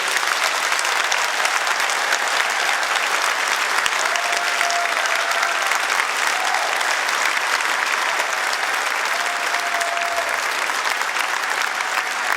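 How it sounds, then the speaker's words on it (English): A school and community music festival audience gives a steady, dense round of applause that fills the whole stretch evenly, close and sustained with no pause. "I think they all deserve a massive round of applause"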